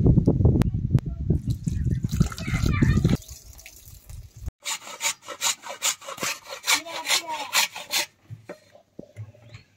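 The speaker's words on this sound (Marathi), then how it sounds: "ही चिंचेची पानं अगोदर पाण्यामध्ये धुवून घ्यायची, आता आपण ती धुवून घेणार आहे." Tamarind leaves being rinsed and rubbed in water for a chutney: dripping, swishing water and rustling leaves, first a dense splashing burst, then a series of rhythmic rubbing strokes with pauses.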